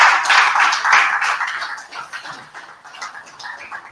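An audience at the Global Wealth Creation Summit 2021 claps in a dense patter that starts strong and slowly thins toward the end, with no voice over it.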